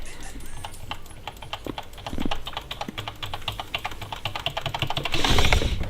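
Rapid computer keyboard typing while chatting in a League of Legends game, a steady near clatter of keystrokes with a brief louder flurry near the end and a little talk.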